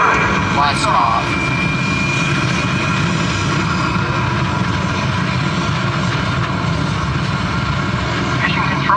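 A loud, steady simulated rocket engine roar on the Mission: Space ride at Epcot fills the whole stretch, broad and rumbling, with brief radio-style voices breaking through near the start and end.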